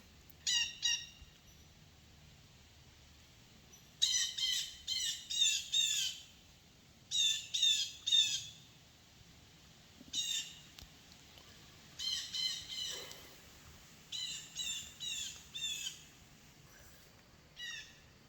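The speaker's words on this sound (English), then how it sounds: "The blue jay just came in." Blue jay squawking in woodland during an archery hunt, harsh repeated calls in short bursts of two to five with pauses between them, moderately near against a quiet background.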